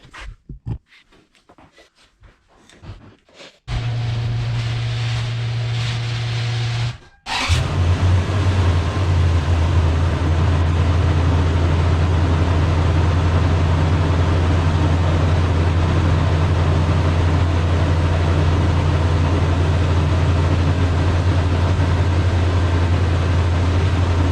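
An engine cranks after a repair, catches after a few seconds, then settles into a loud, steady idle with a constant low hum that runs on alone, close by, until the end.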